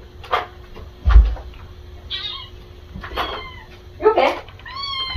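A kitten meows several times in short, high calls at a bedroom door, with a bump near the start and quiet speech in the background.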